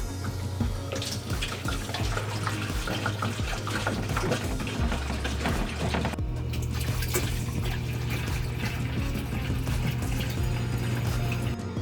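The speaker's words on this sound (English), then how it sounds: "So let's go ahead and get this water in here." Water pours steadily into a 20 gallon refugium aquarium tank being filled, a loud, continuous rushing and splashing stream close by, with a brief break partway through before the flow resumes.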